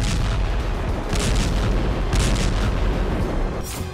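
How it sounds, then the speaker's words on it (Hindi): Heavy booms and rumbling blasts from a Russian strike on an intelligence centre in Sumy, Ukraine, in a dense continuous roar with repeated bursts, loud and sustained. "इस जोरदार धमाके में सूमी में यूक्रेन का एक इंटेलिजेंस सेंटर तबाह हो गया।"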